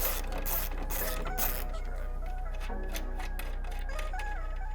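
A ratchet with a 13mm socket winds a bolt out of a VW T4 slam panel. Rapid close clicking and mechanical chatter run in bursts over a steady low hum, with no one talking.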